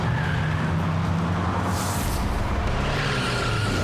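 In a Yakuza 6 cutscene, a car's engine roars steadily and close as its tyres screech in a sharp hissing skid partway through, then the engine drones on.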